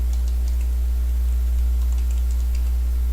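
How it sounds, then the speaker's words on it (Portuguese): Quiet, light keystrokes on a computer keyboard tap out a table name in a spreadsheet, a scattered run of soft clicks sitting under a loud, steady low hum. "venho aqui na caixa de nome aqui em cima, do lado esquerdo, e digito o nome dela, escrevo o nome dessa tabela."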